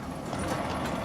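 Horse hooves clip-clop steadily on the Isle of Man horse tramway, a fairly loud, close and continuous trotting rhythm mixed with street noise, with no talking.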